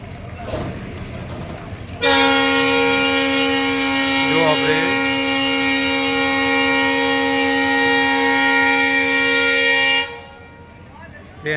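An Ahmedabad–Ramdevra passenger train sounds a long, loud, steady horn blast of about eight seconds as it starts out of a station, with brief chatter around it.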